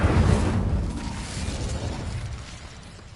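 Incendio fire spell cast in the Hogwarts Legacy video game: a loud, close burst of roaring flame that flares at once, then settles into a steady crackling rush and fades slowly over a few seconds.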